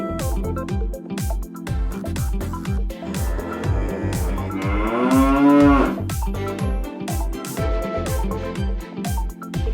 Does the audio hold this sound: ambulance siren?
no